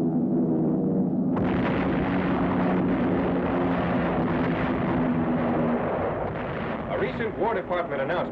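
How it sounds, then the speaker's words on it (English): Heavy flak bursts around B-17 Flying Fortress bombers over Berlin during a year-end raid, a dense, continuous roar of booming explosions and aircraft drone, loud throughout, with a narrator talking over it. "Heavy flak greets the flying fortresses as they approach the city for this year-end attack on the Nazi capital."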